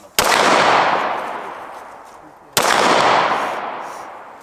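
Two sharp handgun shots at an outdoor gun range, loud and close, each followed by a long fading echo, spaced a couple of seconds apart.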